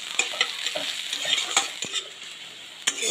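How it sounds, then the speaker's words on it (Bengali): Chopped onion sizzles in hot oil while frying until reddish. A continuous crackling hiss runs throughout, with intermittent spoon stirs and clinks near the pan and no one speaking. "পেঁয়াজটাকে একটু লাল লাল করে ভেজে নেবো।"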